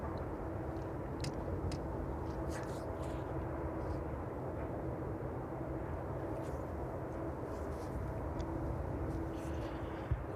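Aircraft arriving at East Midlands Airport in the evening, a continuous broad engine roar that holds steady and loud throughout, rumbling from a distance with no voices over it.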